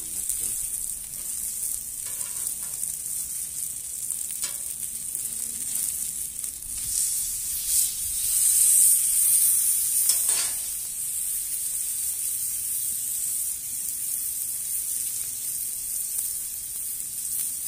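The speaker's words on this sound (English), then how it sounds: "My mushrooms are looking good and just about done" Mushroom mixture seasoned with salt and pepper sizzles steadily on a Blackstone griddle, a constant close frying hiss that swells briefly midway and continues alone throughout.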